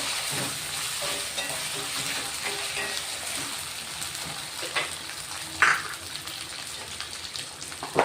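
Finely cut potatoes fry in a pan with a steady, close sizzle, a few brief stirring clinks and pops rising over the constant crackle.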